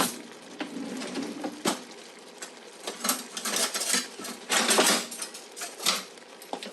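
Metal kitchen utensils clatter and clink in a drawer while a masher is fetched for mashing cooked pinto beans, a run of scattered, close metallic knocks and rattles of varying loudness with no talking.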